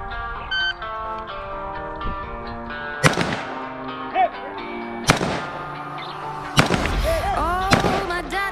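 Gunshots during a 3-gun shooting course of fire: a beep, then loud sharp reports at irregular intervals, some in quick pairs, ringing out over a noisy range with music playing underneath.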